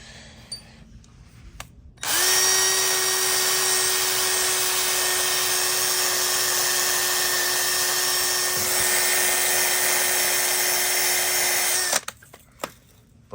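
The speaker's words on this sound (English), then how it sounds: "I'm literally just wire wheeling these" A wire wheel spins on a drill to clean dirty car engine parts near an old AC compressor mount, a loud, steady, high whir running unbroken for about ten seconds before cutting off.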